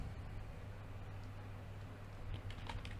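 Typing on a computer keyboard, faint, light key clicks spread through a low steady hum of room noise, with a few slightly louder taps near the end.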